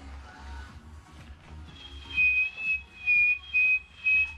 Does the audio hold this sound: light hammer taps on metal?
no